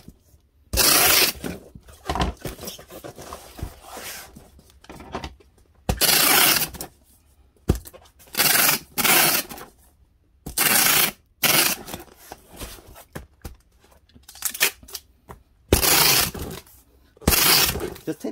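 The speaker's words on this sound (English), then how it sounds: "Just tape right over that open seam, just so everything will be good." Packing tape is pulled off the roll and pressed over a cardboard box seam during packing, in loud ripping screeches with short quiet gaps between them, about a dozen pulls in a row.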